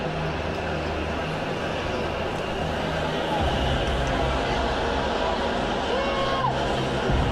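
A large crowd murmurs and chatters steadily at an OCS graduation in Quantico, a dense hubbub with occasional louder voices rising out of it.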